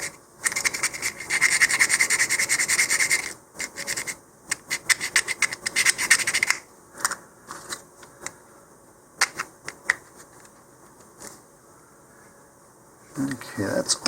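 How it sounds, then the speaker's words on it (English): A disposable nail file rasps against a model rocket part in fast, dense back-and-forth strokes, close and loud, then slower scattered scrapes and taps, with a short burst of filing again at the end. "what I'm using here is just a nail file, disposable type ones here"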